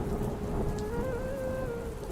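Heavy rain pours steadily throughout, a dense continuous wash with a faint tonal hum running beneath it and no voices.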